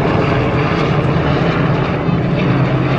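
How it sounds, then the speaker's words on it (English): Steady, loud rotor-engine roar from a helicopter overhead, a constant broadband drone with a low throbbing hum and no breaks. "Oh, there's a helicopter."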